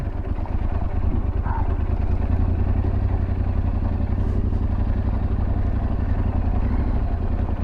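A 2023 Yamaha Tenere 700 motorcycle riding off-road: a steady loud engine drone with a rapid throbbing beat, close and constant with no breaks.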